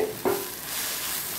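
Chilli powder and turmeric mixture for shark dry fish thokku sautéing in a pan: a single scrape of the spoon, then a steady, hissing sizzle.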